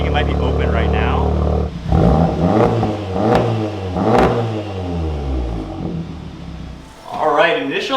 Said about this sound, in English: that is a really deep tone from the AWE